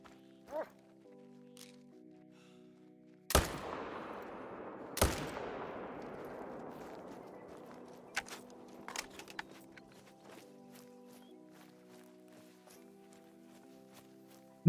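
Two sharp, loud rifle shots from a hunting video game, The Hunter: Call of the Wild, each followed by a long echoing rolling decay across open terrain, with a few fainter clicks and thuds afterward over a quiet background tone.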